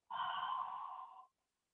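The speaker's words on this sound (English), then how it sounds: "Deep inhale to breathe into your lungs, filling up all the space in your lungs. Exhale, let that go." A long, steady breathy exhale from a yoga practitioner during a breathing exercise in a yoga class, close and soft, fading out after just over a second with no talking.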